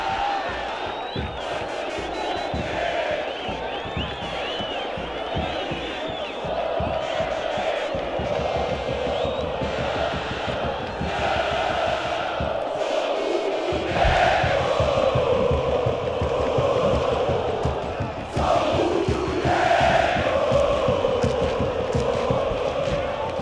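Chavante supporters of São Paulo-RS roar and chant continuously in a stadium during a penalty shootout against Brasil de Pelotas, a dense, sustained crowd din with swelling shouts and rising cheers toward the end.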